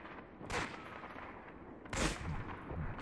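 Two gunshots ring out in Medal of Honor: Vanguard, moderately loud and a little distant. They come about a second and a half apart over a steady hiss of battlefield ambience.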